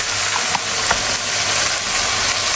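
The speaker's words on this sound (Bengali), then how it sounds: "মাছ ভাজা হয়ে গেছে," Fish fries in a pan in a home kitchen, a loud steady sizzle and crackle with a few sharp pops and spatters, close and continuous.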